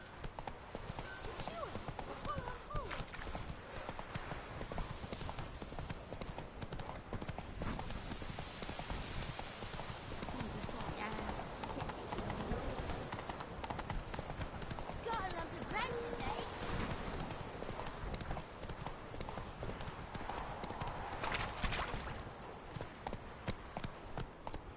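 Hooves of the horse Roach gallop in a rapid, steady clip-clop across open ground in The Witcher 3, running the whole time with faint ambient noise beneath.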